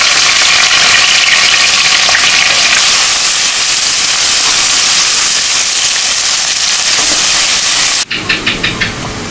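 Onions and green chilies hit hot oil spiced with cumin and five-spice seeds, making a loud steady sizzling hiss that cuts off abruptly near the end, followed by a few faint clicks.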